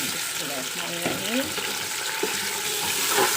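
Chicken frying in hot oil with golden brown onions, a steady loud sizzle throughout with scraping stirring strokes from a spoon against the pan.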